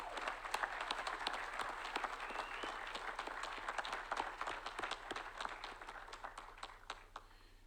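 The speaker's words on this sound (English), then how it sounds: "If we can just give them a round of applause." A graduation crowd at a college commencement ceremony in Bermuda applauds faculty and support staff, a dense, steady patter of many hands heard from some distance at a modest level.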